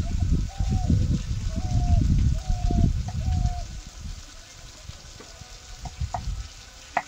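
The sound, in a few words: potatoes being sautéed with spices in a pan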